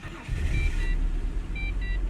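A Holden VT Commodore engine runs close by, a steady low rumble for about two seconds with faint high-pitched tones over it.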